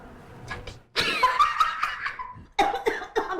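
Close, loud coughing in bursts of harsh fits with brief pauses, broken up by a quieter stretch, set against faint background sound.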